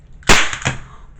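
A toy pop gun fires with one sharp, loud close pop, followed by a softer second snap a moment later.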